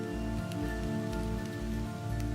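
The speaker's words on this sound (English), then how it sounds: "Finally, after months of drought, the first drops start falling." Summer rain in the desert, the first raindrops after months of drought, patters steadily on the ground as a soft, even wash of drops under a low rhythmic hum.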